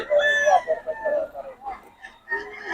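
Young local banded roosters (stags) crow close by, loud and strained, with a long crow followed by a shorter one after a brief pause.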